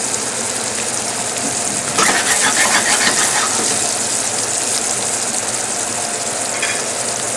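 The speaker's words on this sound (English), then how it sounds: "it does not take long for this to finish cooking, and we don't want dry salmon." Salmon fillets finishing in a creamy Tuscan-style sauce in a pan give a steady, loud sizzle and bubbling that runs throughout, with a brief stir or shift in intensity partway through.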